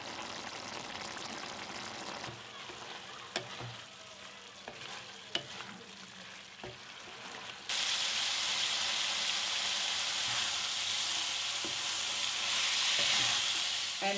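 Raw jackfruit curry sizzles and fries dry in a pan, a steady hiss with scattered clicks of stirring, the frying growing louder and denser halfway through.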